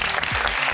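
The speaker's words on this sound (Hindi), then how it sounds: "साहिबा जी, ढेर सारी तालियां।" Studio audience applauding for guest Sahiba Afzal on a talk show, a brief dense burst of close clapping, loud and unbroken, with no voice over it.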